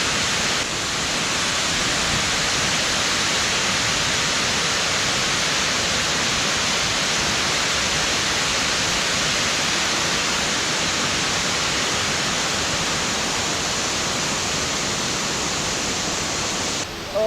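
A waterfall roars loud and close, a dense unbroken hiss of falling water holding steady throughout with no talking.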